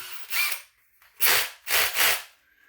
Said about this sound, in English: my better way of doing that is I take a cordless drill.